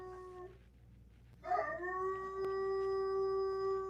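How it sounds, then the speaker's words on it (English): A big dog howls in a sustained, rising wail that starts after a brief pause and holds steady, close and clear, with fainter whimpering howl notes before it. "can y'all hear my dog?"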